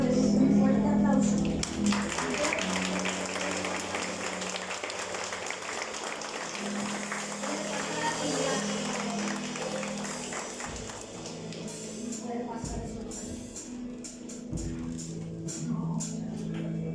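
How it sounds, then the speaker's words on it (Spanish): Applause rises from a church congregation, dense clapping carried over sustained organ-like tones and voices, steady and fairly loud throughout before thinning slightly near the end. "Si usted está agradecido con el Señor, le doy un fuerte aplauso."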